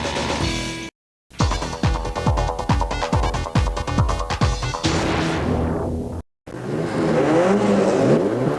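Race car engines in the 1999 BF Goodrich Challenge Cup revving hard on the starting grid, a loud, rapid series of blips and roars close by, with brief dropouts between bursts.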